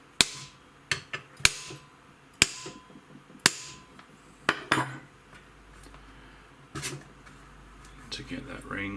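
Several sharp, loud metallic hammer strikes ring out at irregular intervals while loosening the stock tube ring on a Tokyo Marui M4A1 MWS gas blowback rifle, with a person talking faintly in between.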